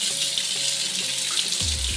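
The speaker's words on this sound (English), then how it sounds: "I'm gonna go ahead and run cold water on these noodles while they're cooling off" Cold tap water runs steadily over cooked spaghetti noodles in a kitchen sink, a continuous close hiss and splash with a lower gurgle near the end.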